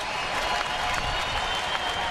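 A baseball crowd at an Oakland A's home game against San Diego cheers and applauds in the bottom of the ninth, a dense, sustained roar of clapping and voices that holds steady for the whole stretch.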